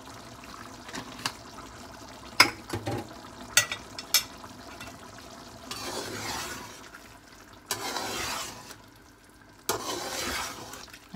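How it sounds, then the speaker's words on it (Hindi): Ground spices for chicken karahi, including black cumin and dried coriander, being stirred together in a bowl, with soft scraping and stirring bursts and a few sharper taps against the container, fairly quiet and close, no talking. "इन्हां सारियां चीज़ां नूं मिक्स कर दिंदे हैं।"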